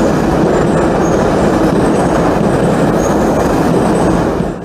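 A metro train crossing a metro bridge, a loud continuous rumble of wheels on rails with faint squeals and a slight fade at the end.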